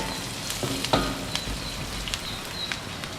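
Garlic and onion sauté in a pan for bicol express, giving a steady close sizzle broken by a few sharp clicks and taps of stirring, with no voices.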